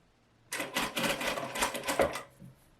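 A domestic sewing machine tacking fabric within the seam allowance along an edge of a top's collar, a brief close run of rapid rhythmic stitching lasting about two seconds before stopping.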